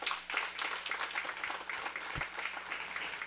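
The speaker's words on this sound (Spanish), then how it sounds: "Un aplauso para nuestro diputado." An audience applauds at a road paving inauguration event in Chemiche, Pueblo Viejo, with steady, dense clapping from a crowd that holds for several seconds at moderate loudness.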